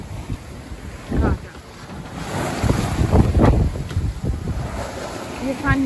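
A sailboat heeled hard on a beam reach in strong wind off the Cyclades near Milos, Greece: steady roaring wind and rushing, splashing water against the hull, loud and continuous with gusting surges and no talk.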